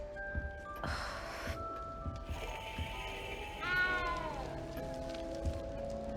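A frightened cat in a Hogwarts video game gives a short meow amid a busy musical backdrop, with a rising and falling cry around the middle.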